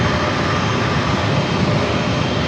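A United Airlines Airbus A321neo arriving from Denver at San Diego airport produces a loud, steady roar of jet engines, heard up close and alone.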